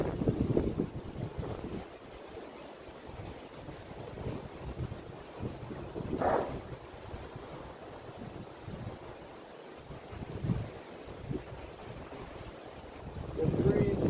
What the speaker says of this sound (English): The breeze pretty strong, man.